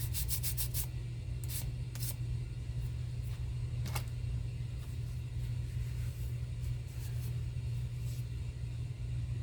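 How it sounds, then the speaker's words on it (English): A fast-curing Mix2Mold ceramic resin piece is sanded by hand, with scattered scratchy rubbing strokes over a constant low droning hum. "Let's see what happens when I try to sand it."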